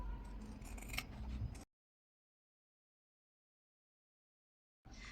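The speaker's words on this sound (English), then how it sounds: "I do want to trim now a little bit" Scissors trimming the sides of a paper journal topper: a brief burst of close, crisp cutting at the start, then silence, then a short return of faint rustle at the end.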